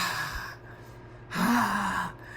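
A single breathy, heavy exhale swells up after a short pause, a voice mimicking a creature's panting, close and fairly loud with no words.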